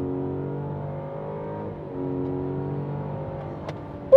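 A Cadillac CT6 V6 in sport mode pulls hard from a launch, its engine note a steady rising drone heard from inside the cabin, with a brief sharp noise at the very end.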